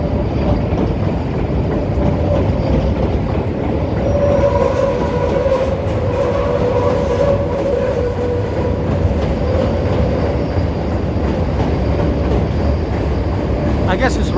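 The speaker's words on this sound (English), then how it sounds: "Now you got a train coming or going. I hear it." A train rumbles past on elevated tracks in downtown Chicago near Lake Street during morning rush hour, a loud, steady roar of wheels and cars with a faint squeal partway through, heard up close without talk.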